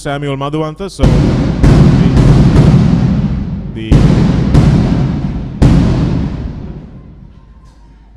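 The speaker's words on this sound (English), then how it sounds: "Those were firecrackers." Firecrackers exploding at a rugby match between CH & FC and Havelock SC: a series of loud, booming blasts spaced about a second apart, each decaying over the crowd, after brief speech at the start.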